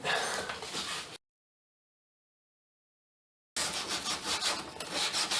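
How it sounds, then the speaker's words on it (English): A small hose cutter rasps around a steel fuel line in a tight spot under a vehicle, a close, gritty rubbing scrape in two bursts separated by a few seconds of silence. "You can get in really tight spots with these hose cutters."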